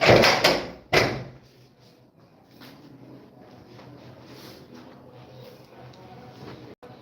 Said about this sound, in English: the noise was beginning to be much, so I just needed to shut the door